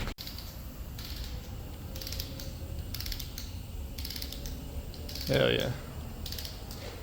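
Ratchet wrench torquing down bolts while reassembling a 460 big block engine, a steady mechanical clicking and creaking running under a noisy garage background, with one louder ratcheting burst near the end and a brief spoken exclamation.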